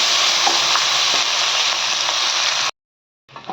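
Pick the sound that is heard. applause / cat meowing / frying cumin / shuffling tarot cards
frying cumin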